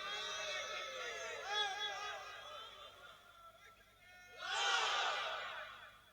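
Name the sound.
crowd shouting takbir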